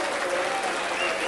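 Rugby league crowd at Mount Pleasant applauding, a steady dense wash of clapping and crowd noise with no breaks, spread out and moderately loud.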